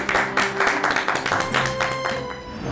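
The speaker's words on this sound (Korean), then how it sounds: "큰 박수로 맞이해 주시기 바랍니다" A studio audience claps to welcome an art docent guest onto a Korean TV talk show about art. The clapping is steady and moderate over a few seconds, with tonal background music underneath.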